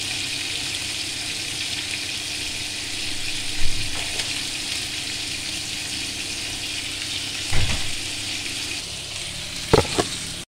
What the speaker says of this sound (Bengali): মাছটা আমি ভেজে নিচ্ছি।